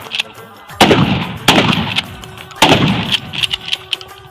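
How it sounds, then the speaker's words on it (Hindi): Gunshots from a rifle, each fired after cocking during prone and standing firing practice: three loud, sharp reports with ringing decay, spaced about a second apart, followed by fainter clicks and handling noises. "काक करो ना तो फायर"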